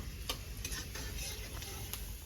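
Steady low sizzle of chopped garlic frying in hot ghee, with a few faint clicks and stirs on top, no voices.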